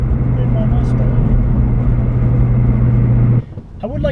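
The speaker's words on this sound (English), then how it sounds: "Driving home in my Mustang." A 1996 Ford Mustang GT drives along with a steady low engine drone under road noise, then cuts off abruptly near the end as a voice speaks.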